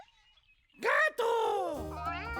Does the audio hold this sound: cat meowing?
yes